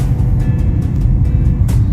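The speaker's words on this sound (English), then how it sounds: "There's something about car white noise that's common." Steady low road rumble inside a moving car, a continuous droning white-noise hum with faint intermittent higher hiss, heard alone.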